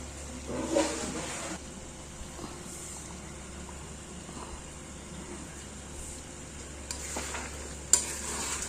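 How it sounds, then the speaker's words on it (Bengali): A chicken korma masala with cashew and poppy seed paste is stirred in a pan, producing a soft sizzle with scraping bursts at intervals over a low steady hum. "এবার এটাকে নাড়িয়ে দিতে হবে।"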